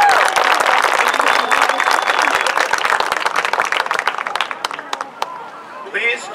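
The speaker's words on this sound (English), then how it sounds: "Give her a round of applause." Crowd applause at a high school girls' soccer senior night ceremony, dense clapping from spectators with some cheering that gradually thins out toward the end, where a few voices can be heard.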